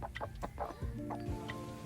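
Several chickens on a rural farm in Mlang, North Cotabato, cluck in short, repeated bursts close by, with one or two higher calls mixed in over a steady background hum.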